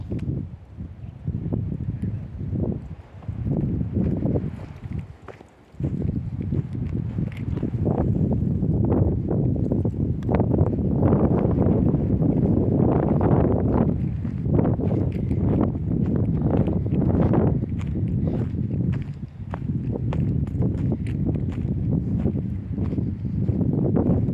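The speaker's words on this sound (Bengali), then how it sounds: "কি বাতাস!" Strong, steady desert wind in Saudi Arabia roars and buffets the microphone for the whole stretch, with gusty surges and brief lulls.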